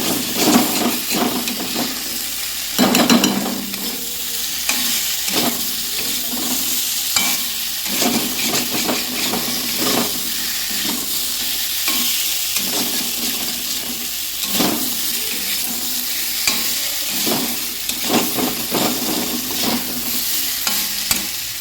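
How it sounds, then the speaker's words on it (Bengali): Cauliflower stirred and frying in a pan of cooked-down spices, a steady close sizzle with repeated scraping stirs throughout, no talking. "মশলা কষানো হয়ে গেছে, এখন ফুলকপিগুলি দিয়ে দেব, দিয়ে আর একটু নাড়াচাড়া করে ঝোল দিয়ে দেব।"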